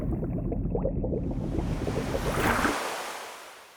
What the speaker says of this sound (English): These water effects are really important, bro.